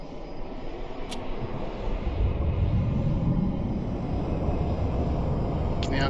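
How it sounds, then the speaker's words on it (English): A T-7A Red Hawk jet engine spools up in X-Plane 12, a low rumble that grows louder and rises in pitch partway through, then holds steady, with a couple of brief clicks. "when you're sure the engine's spooling up"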